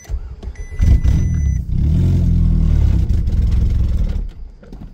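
A cheap, recently revived Volkswagen Golf GTI low on coolant cranks and catches, its engine clattering and then running at a loud, steady rough idle up close for a few seconds before dropping off.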